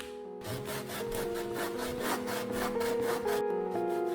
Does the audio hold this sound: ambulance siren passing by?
no